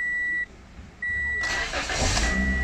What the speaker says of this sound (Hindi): अब गाड़ी स्टार्ट करके चेक करते हैं।